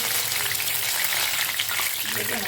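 Curry leaves hit hot oil in a pan readied for frying fish, giving a loud, steady, close sizzle with watery crackling that runs unbroken throughout.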